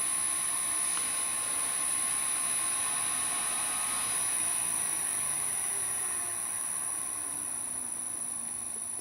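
An Axminster AT1416VS wood lathe runs at its slowest pulley speed with a steady, even hum and a faint high whine, continuous and close throughout, with no talk.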